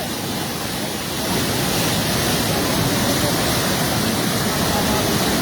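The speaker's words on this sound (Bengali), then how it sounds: "যত সময় যাচ্ছে ততই পানির প্রবল ব্যাগ বাড়তেছে" Powerful floodwater rushing after dam gates were opened, a loud, continuous broadband roar that swells slightly after the first second and holds steady, with no clear voices over it.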